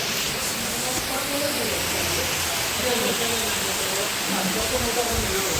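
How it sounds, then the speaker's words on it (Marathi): Heavy rain pours down in a steady, dense hiss that never lets up, with faint voices in the background. "आता जोरदार पाऊस सुरू झालाय"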